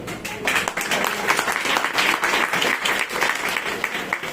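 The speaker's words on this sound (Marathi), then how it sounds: "टाळ्या कमी वाजतात मला माहित आहे" An audience applauds a speech, a dense burst of many hands clapping at once, steady and fairly loud for a few seconds without fading.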